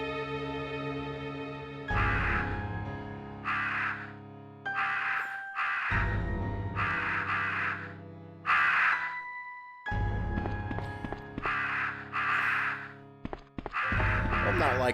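Crows caw repeatedly in the Resident Evil Survivor video game, harsh bursts recurring in clusters over a sustained low droning soundtrack, loud and close.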